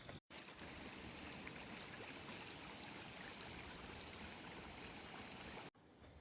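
A stream runs across a hiking trail after overnight rain, a steady, full rushing and gurgling of water heard up close with no voices.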